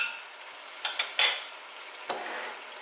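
Tomato puree and garlic go into a frying pan of chicken pieces, raising a soft, steady sizzle broken by a few sharp utensil clatters against the pan.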